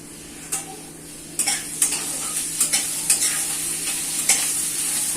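Potatoes frying in a pan, a steady bright sizzle with a run of sharp scrapes and taps from stirring at irregular intervals, close and fairly loud, with no voices.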